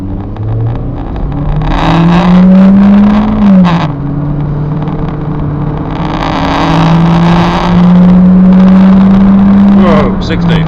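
2012 Citroen C3 1.6 automatic accelerating hard from rest to 60 on the road, engine note climbing through gear changes with a couple of shift dips, heard from inside with speech over it.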